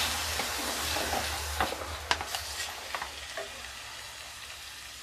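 Chicken keema with soy sauce and tomato ketchup sizzles in a pan while a spatula stirs it, giving soft frying hiss broken by several sharp scraping clicks, close and moderately loud, fading toward the end with no talk.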